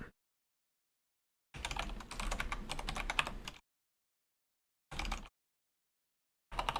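Bursts of fast, close keyboard typing on a computer during a coding session: a two-second run of rapid clicks, a pause, then two shorter flurries, with no talking.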